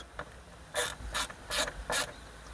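A ratchet clicks in short bursts while tightening the rear view mirror bracket on a 2023 Toyota Yaris Cross Hybrid during a windscreen replacement, four quick close ratcheting strokes with a faint tick before them.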